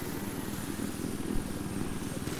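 Helicopter in the video game Battlefield 3, a steady rotor thump and engine drone holding at a fairly even level throughout, with no clear speech over it.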